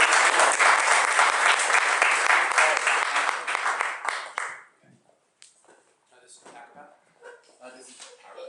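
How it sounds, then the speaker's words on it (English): Audience applause at a talk, steady and full for about four seconds before stopping abruptly, followed by a voice speaking in the quiet room. "So give him a round of applause"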